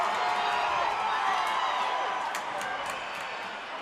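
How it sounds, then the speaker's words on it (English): Loud, steady crowd roar and yelling fills a college hockey arena, Dordt against Kansas, with a few whoops and claps poking through near the end as the noise eases slightly. "I don't know how many people heard the whistle over the yells of the crowd"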